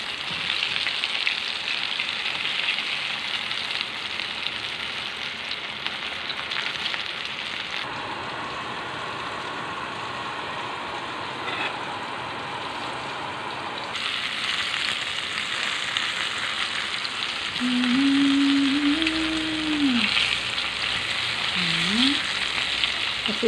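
Steady sizzling of food frying in oil fills the background, with faint clinks and a brief squeaky tone near the end.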